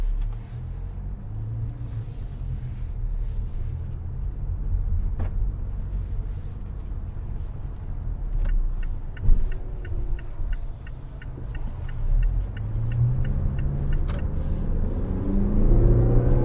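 A 2019 Mazda CX-5 Grand Touring Reserve with the 2.5 liter turbo accelerates on the road. The engine and road noise make a steady, close interior rumble with a few rising surges and some faint ticking, and no one speaks.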